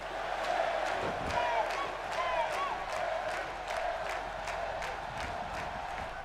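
Crowd noise in the WWE 2K17 wrestling video game, a steady arena roar with cheering and scattered claps and shouts that stays loud and even the whole time.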